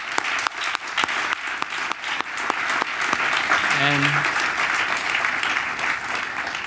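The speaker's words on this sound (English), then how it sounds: "So one more round of applause." Crowd at a university launch event gives a round of applause, sharp scattered claps building into sustained dense clapping, close and continuous, with a brief voice cutting in partway through.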